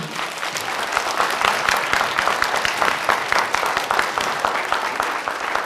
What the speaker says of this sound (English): a big round of applause for everyone